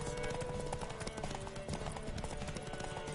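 Steady clip-clop of horse hooves in a quick, regular rhythm, with a low background din and a hint of a distant whinny.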